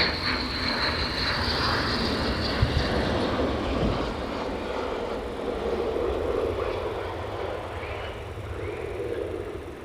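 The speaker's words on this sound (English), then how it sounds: "So this is the special tail one, the anniversary aircraft coming into land." An F-15 jet comes in to land at night at an air base, a loud, continuous roaring whine with a high engine tone that slowly shifts as the aircraft passes, heard alone.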